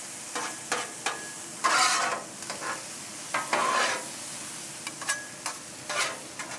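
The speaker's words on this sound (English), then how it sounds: "I got some diced ham here. Let's throw some of that on there." Diced ham cooking on a Blackstone 22-inch XL griddle, with short, bright bursts of sizzle and spatula scrapes breaking over a quiet, steady background hiss.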